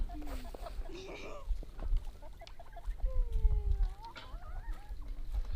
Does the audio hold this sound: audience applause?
no